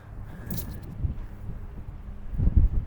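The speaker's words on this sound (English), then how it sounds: "that wind" Wind gusting across an outdoor disc golf course, a steady rough rumble with a stronger gust swelling near the end, no talking.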